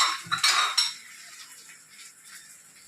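Fried fish pieces are lifted from the pan onto a plate with a few quick metal clinks and scrapes at the start, then fading to quiet kitchen background.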